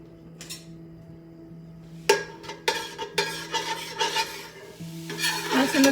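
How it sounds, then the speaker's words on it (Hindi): Garlic and ginger sautéed in a pan for chicken jalfrezi, a spoon scraping and clinking against the metal in irregular strokes over a faint steady sizzle, with a constant low hum underneath. "लहसुन अदरक को सौटे कर लिया है"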